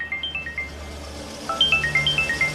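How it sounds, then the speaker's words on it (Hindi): Phone ringtone with an incoming call: a series of short bright melodic electronic tones in a quick repeating pattern, a pause, then louder repeated chiming notes, close and clear over a low hum. "किन्नर दा कितों फोन आ गया?"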